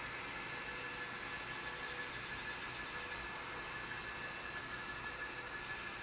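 N scale model locomotives with a basic paint scheme roll along layout track, giving a steady, continuous whir and faint rattle with a high electric whine throughout. No one speaks.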